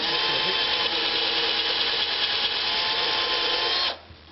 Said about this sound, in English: Put some pilot holes in.